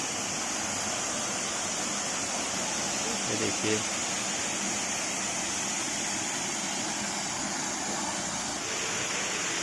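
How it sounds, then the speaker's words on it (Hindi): Siya Devi waterfall in Balod, Chhattisgarh, running low on water, gives a steady broadband rush of falling water that fills the whole clip, with someone speaking briefly over it. "ये देखिए मेरे दोनों अगल बगल क्या खूबसूरत झरना बह रहा है।"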